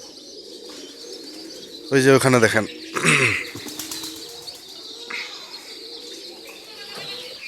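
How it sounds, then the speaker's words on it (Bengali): Pigeons coo in a village yard, with a loud flurry of flapping wings around the middle and chirps from other birds, while a person talks nearby. "এই দেখেন কবুতরগুলোকে খাওয়া দাওয়া হয়েছে"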